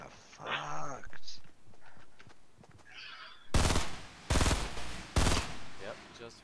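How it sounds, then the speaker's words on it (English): Bursts of gunfire ring out in a PUBG battle-royale match, several sharp loud volleys shooting at buildings, following softer game noises and effects. "Yep, just fucking shooting through. Just shooting at buildings."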